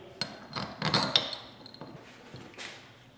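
M6 bolts, 60 mm long, sliding into an all-aluminum spindle clamp on a 3018 CNC, giving a few light metallic clinks and taps, quiet and close, with no talking.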